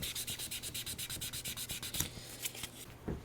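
Rapid rhythmic scraping of sandpaper rubbing back and forth on wood during a guitar build, close and steady, slowing and breaking off near the end.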